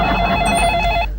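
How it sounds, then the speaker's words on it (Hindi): A telephone rings once with a bright, electronic tone, loud and close, cutting off after about a second. "मैं अभी आनंद को मधुपुर फोन करता हूँ और पूछता हूँ,"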